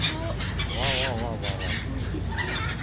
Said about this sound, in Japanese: 出港に向け待機中のカモメ。